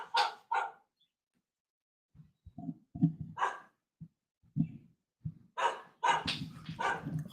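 A dog barks in a couple of sharp bursts, then keeps barking in a repeated run of barks, fairly close and loud, with quiet gaps between.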